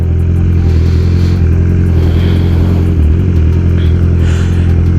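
A 2020 BMW motorcycle idles loudly close by, its aftermarket exhaust pipe giving a steady, rumbling drone with a faint rev swell and some mechanical clatter, running continuously with no talk.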